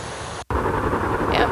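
A fan sound played back through a phone app, a steady broadband whoosh that cuts out briefly and resumes at an even level.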